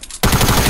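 Sudden loud burst of rapid automatic gunfire in the Fortnite video game, a dense continuous stream of shots starting abruptly after a brief quiet moment and sustained to the end.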